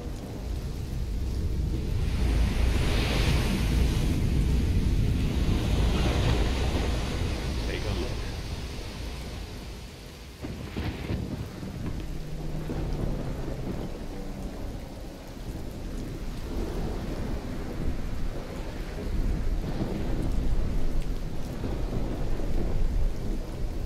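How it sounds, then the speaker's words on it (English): Stormy weather in the video game Risen 2: Dark Waters, with steady heavy rain and rolling thunder rumbling through, and a loud crack near the middle; a voice speaks faintly beneath the downpour. "It's not the storm I'm worried about."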